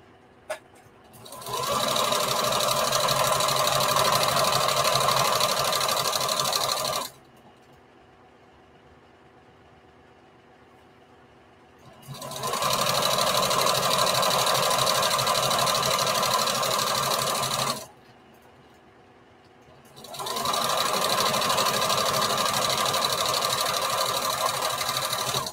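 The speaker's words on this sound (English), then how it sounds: "go back and serge your edges or zigzag stitch them" Sewing machine zigzag stitching fabric edges of a patchwork bandana T-shirt dress, running in three long steady whirring stretches of several seconds each, separated by quiet pauses.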